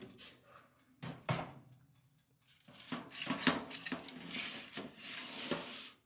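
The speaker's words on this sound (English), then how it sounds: "So we're gonna put that in the oven." A pan of Chinese BBQ pork riblets topped with leftover sauce slides into an oven preheated to 375 degrees, giving a few sharp metallic clanks and thuds followed by a burst of close rattling clatter from pan and oven door; no one speaks.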